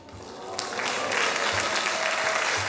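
A church congregation bursts into applause during a Sunday afternoon sermon, a dense wash of clapping that builds quickly and holds steady, fairly close and filling the room.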